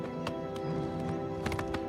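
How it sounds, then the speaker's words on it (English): Horse hooves walking in Oblivion Remastered, a soft, steady clopping of game footsteps layered over a sustained bed of in-game combat music. "See, now I'm RP walking my horse."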